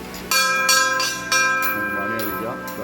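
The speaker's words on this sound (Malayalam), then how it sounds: "മണി അടിക്കാം. ഇവിടെ എല്ലാം മണികളാണ്." Temple bells at the BAPS Hindu Mandir in Abu Dhabi ring in several loud, repeated strikes with long metallic resonance, close and clear.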